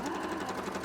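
A sewing machine stitches steadily through a layered costume skirt, a brief, even mechanical whir with a fast regular rhythm, heard close and alone.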